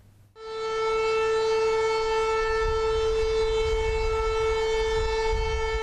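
An air raid siren in Wieluń, Poland, sounding at a war anniversary commemoration, kicks in abruptly and holds a loud, sustained wailing tone over a low background rumble.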